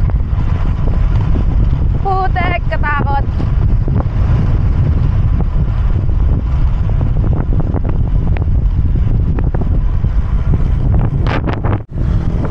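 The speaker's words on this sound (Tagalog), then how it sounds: "Lakas ng hangin!" Strong gusting wind roars continuously across the microphone during a mountain bike ride along a coastal road toward a Pacific view deck, with a voice exclaiming briefly over the buffeting.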